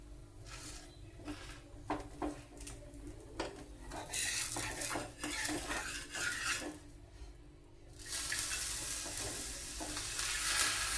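Cumin and onions fry in a pan for a pesarattu breakfast, giving a soft steady sizzle broken by scraping stirs and utensil clinks, with the hiss growing brighter and louder toward the end.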